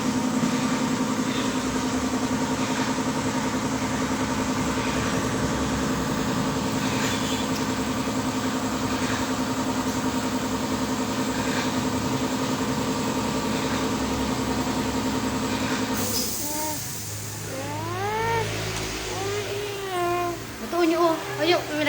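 A motorcycle engine idles steadily at a Suzuki branch in Novaliches Bayan, a continuous low rumble that drops away near the end as other sounds take over.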